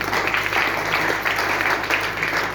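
Audience at a meeting clapping together, a broad sustained patter of many hands with a faint low hum beneath.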